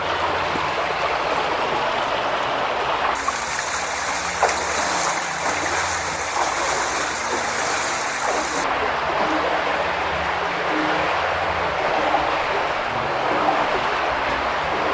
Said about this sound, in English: About shin deep the water below.